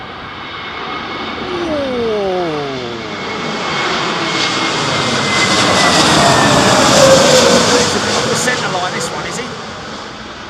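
Airliner on a go-around at Heathrow Airport in strong storm winds, its jet engines roaring and swelling as it powers up and climbs past, loud and broad over rushing wind, with a voice talking faintly in the background.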